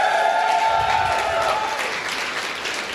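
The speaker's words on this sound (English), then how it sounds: "A round of applause for them as well." A crowd at an event claps in a sustained round of applause honoring Uberchain and Loris, dense and steady for a few seconds, with a faint tonal hum running beneath the first half.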